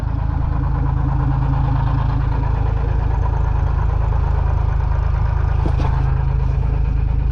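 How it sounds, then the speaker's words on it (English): A BMW engine runs in gear with one wheel lifted, a steady, loud, continuous low drone with no change in pitch and no voices. "I'm gonna put it in gear and I'm gonna let the wheel go."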